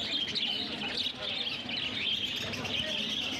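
Many caged birds at the busy Garia bird market chirp and tweet without pause, a dense, steady chatter of overlapping calls filling the scene.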